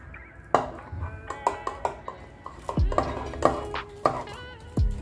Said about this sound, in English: Mix the whole thing while there's baking powder everywhere.